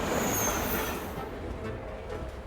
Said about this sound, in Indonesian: Coba itu lihat kereta.